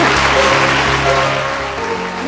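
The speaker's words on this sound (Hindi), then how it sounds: "आप सब इनका जोरदार तालियों से स्वागत कीजिए" An audience applauds to welcome a chief guest at a film event, a steady wash of clapping that holds for a couple of seconds at close, full volume and eases slightly toward the end.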